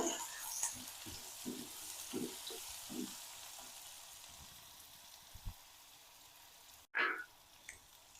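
Sliced onions with mustard seeds, cumin and curry leaves sautéing in a pan for brinjal rice, a faint low sizzle broken by regular spoon taps and stirs, with a sharper clatter near the end.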